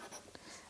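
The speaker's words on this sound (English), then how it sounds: "Let me write this. This is Sharpie." A Sharpie marker writes a single short word in a quick squeaky scratch, close and faint, with no talking.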